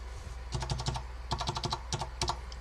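Clustered bursts of crisp, even keystrokes on a restored Focus FK-2001 keyboard with Alps switches, close and distinct, in rhythmic runs with brief pauses and no voices.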